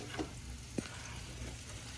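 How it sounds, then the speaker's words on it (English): Quiet, steady sizzling of mushrooms frying in a hot pan, with a couple of faint clicks over the low crackle. "as soon as I added the mushrooms, they started to sizzle"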